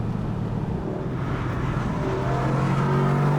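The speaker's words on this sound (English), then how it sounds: "definitely getting a bit more of the V8 rumble coming out of the rear" Mercedes-AMG GT R Roadster V8 in Sport Plus mode, a steady, loud low exhaust rumble from the rear that holds constant throughout, engine drone alone with no voices.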